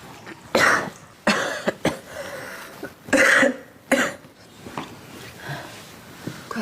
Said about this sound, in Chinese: 你这怎么又咳嗽了？